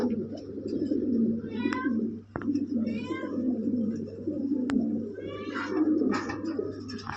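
Imported Blue Ballas pigeons coo and call in repeated short phrases over a steady low hum and background noise, with a sharp click or two between the calls.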